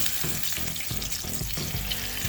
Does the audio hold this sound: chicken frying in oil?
yes